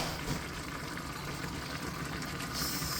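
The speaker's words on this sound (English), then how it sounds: "look at that, bubbling, bubbling, bubbling" A thick chicken stew bubbles and simmers steadily in a pot, a dense, continuous gurgling close by with no voices.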